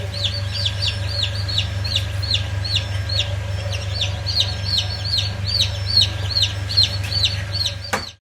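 Chickens at a gauthan hatchery unit cluck steadily in repeated short calls over a constant low mechanical hum, with no talking.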